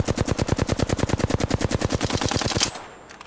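Rapid automatic gunfire from enemies in a shooter video game, a steady burst of roughly two dozen evenly spaced shots rattling loud and close for nearly three seconds before cutting off into a fading tail.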